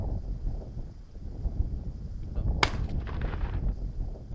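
A single sharp gunshot cracks once amid steady outdoor wind noise at night in a village in Dangjin, South Korea, followed by a brief rolling echo.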